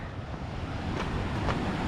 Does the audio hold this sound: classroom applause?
no